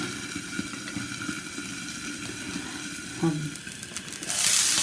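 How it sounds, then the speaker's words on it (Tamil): Sardines (mathi fish) frying in a pan give off a steady, moderate sizzle that runs all through, with faint stirring or scraping noises. The sound grows a little louder toward the end. "ஃப்ரை ஆகிடும். மீன் நல்லா வெந்துடும்."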